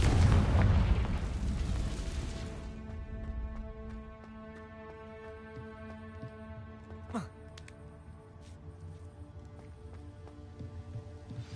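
A Confringo blasting spell explodes in a Harry Potter video game, a loud booming burst at the start that rumbles and fades over a few seconds, leaving a sustained musical score with a sharp swish midway.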